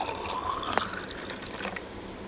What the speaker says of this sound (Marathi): इथं ग्लासमध्ये पाणी घेऊया